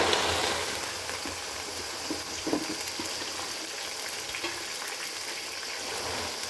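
Gongura leaves dropped into hot oil tempering in a pan, giving a steady broad sizzle and crackle with a few soft stirring clinks, close and moderately loud.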